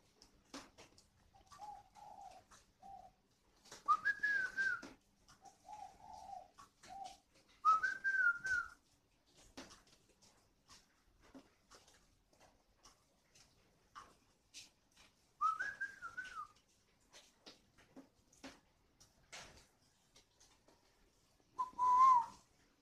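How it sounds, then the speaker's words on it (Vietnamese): A young wild songbird, caught less than a year ago and only partly tamed, whistles clear bright phrases in short bursts spaced across a quiet, rainy outdoor setting, with faint background noise between calls. "Chim rừng mới thuần hóa được một chút."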